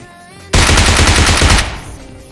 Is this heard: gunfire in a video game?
yes